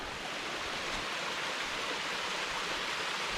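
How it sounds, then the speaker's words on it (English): A waterfall along the Pinhoti Trail in a wooded backpacking setting, a steady close rushing roar of falling water, continuous and unbroken with no talk. "Check this waterfall out."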